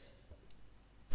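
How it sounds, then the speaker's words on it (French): A single sharp, loud cough bursts out at the very end after near silence, coming from a person playing a Minecraft survival games match. "Je tousse un petit peu aujourd'hui."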